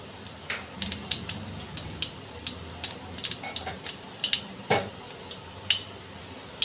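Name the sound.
kalonji tempering sizzling in mustard oil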